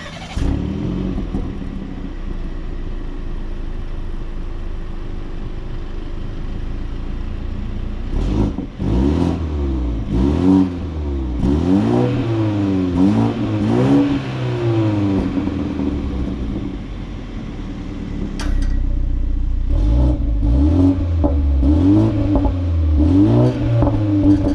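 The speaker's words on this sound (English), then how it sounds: "I'm gonna rev up in comfort, then I'm rev up in sport." A 2020 BMW 330i engine revs repeatedly in rising and falling sweeps, first in comfort mode and then louder in sport mode, with a steady idle between bursts and a closer, stronger exhaust note toward the end.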